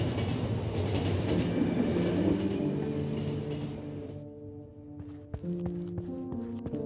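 A video game train from The Final Station rumbles steadily, then the noise drops away into slower clanks and metallic knocks as it comes to a stop, with no talking.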